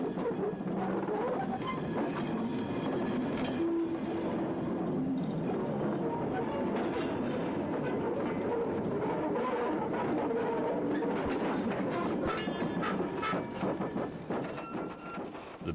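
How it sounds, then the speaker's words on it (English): Steam-era train wheels rolling over bolted jointed rails on wooden sleepers with cast-iron chairs, a continuous loud rumbling roll with rhythmic clickety-clack beats throughout, fading slightly at the end. "Even the sound of wheel running on rail in the classic age was different."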